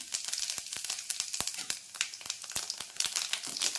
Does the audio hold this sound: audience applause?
no